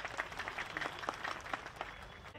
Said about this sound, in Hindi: एक जोरदार तालियों से हम स्वागत करते हैं।